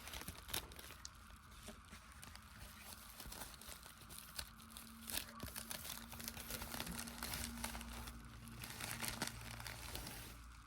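A package holding a bubble-wrapped Dark Angels Balthasar miniature is cut open, making faint, steady crinkling and rustling of plastic and wrap throughout with a few sharper crackles, close by and without talk.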